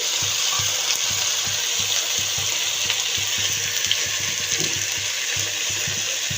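Beans, potato and eggplant frying with browned onion, salt and turmeric powder in a pan: a loud, steady sizzle throughout, with a regular run of low scraping thumps as the vegetables are stirred.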